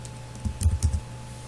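Fingers tap out a brief burst of keystrokes on a computer keyboard while typing into a Windows 8 search box, a handful of close, quick clicks.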